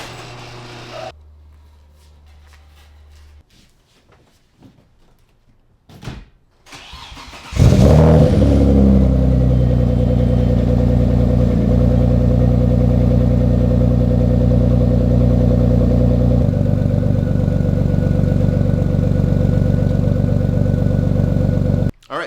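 A single-turbo Audi S4 engine cold-starts after a quiet stretch of faint clicks, catching with a loud burst and then settling into a steady, high, rumbling idle that holds loud and constant to the end.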